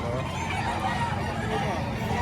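Chickens at a poultry market in Batangas, a dense mix of clucking and fowl calls over steady crowd noise, with people talking nearby throughout.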